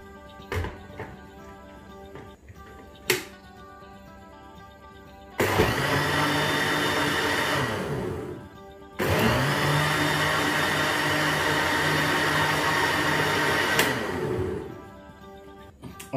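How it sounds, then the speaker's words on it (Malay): An electric blender whirs loud and steady as it mixes akok kedut batter, running in two sustained bursts of roughly three and five seconds separated by a short pause, with quiet handling noises before. "kita letak dekat blender sekejap saja bagi dia punya adunan ni sebati"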